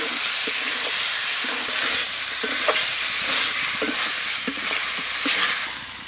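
Chicken meat sizzles steadily in a pan for a home curry, with a continuous bright hiss of frying broken by repeated scraping clinks and knocks of a spoon stirring the pieces around, and no talking.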